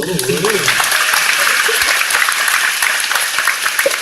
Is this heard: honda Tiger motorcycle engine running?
no